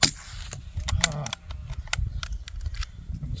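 A .22LR rifle fired at a swinging steel target at an outdoor rimfire match: several sharp, light cracks with faint metallic clinks, spaced irregularly under low background noise and brief voices.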